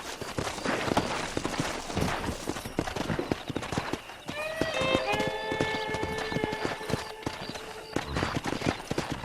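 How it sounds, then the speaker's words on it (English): Horses in Red Dead Redemption gallop in a steady clip-clop of hooves, with a clear whinny rising partway through, all close and continuous over game ambience. "Let's see if we can't wrangle some horses."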